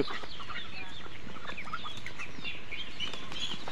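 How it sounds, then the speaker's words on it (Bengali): Chickens and roosters on a small family farm cluck and chatter continuously, several birds close by in overlapping, busy bursts with no one speaking. "হাঁস আছে, মুরগি আছে, মোরগ আছে, পাতি হাঁস আছে"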